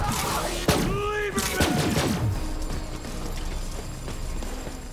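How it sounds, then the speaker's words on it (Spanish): Rapid bursts of gunfire and sharp impacts from the video game Borderlands 3 crackle amid a busy, noisy mix, with a few louder shots standing out early on. "Me está echando plomo ese Dani"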